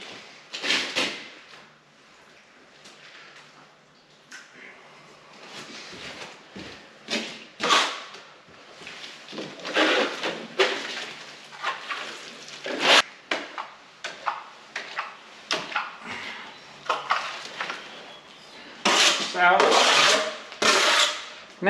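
A plastering trowel sweeps and scrapes across fresh plaster on a wall, making repeated short rasping strokes up close with uneven pauses between passes.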